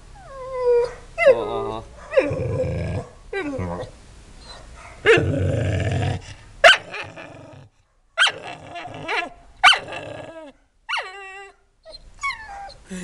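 A dog frightened of a digital camera barks and growls in loud, close bursts with howling yelps between short pauses, while a person speaks briefly.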